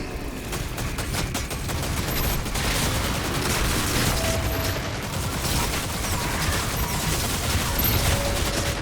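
Rapid, dense gunfire from the first-person shooter Doom: The Dark Ages rattles on without pause, loud and close, layered with booming impacts and mechanical weapon noise.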